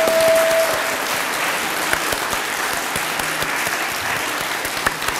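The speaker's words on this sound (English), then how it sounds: "let's give a big round of applause to Nat and Justin and the Abbey and all of our speakers today" An audience at a Civic Saturday gathering gives the speakers a round of applause, sustained dense clapping that starts loud and carries on steadily with a few sharper claps standing out.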